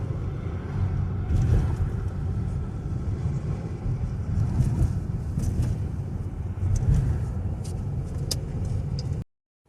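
A small car's engine runs at a steady idle on icy winter streets, giving a continuous low rumble with slight swells in level and no one talking.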